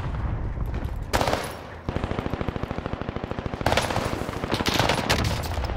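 Rapid automatic gunfire in a console shooter video game, with long bursts of closely spaced shots and a steady rhythmic stretch in the middle, loud and close.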